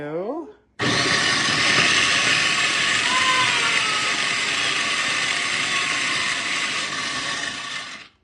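Food chopper whirling for a few seconds: a loud steady motor whir with rattling blades begins abruptly after a brief voice, holds evenly, then cuts off.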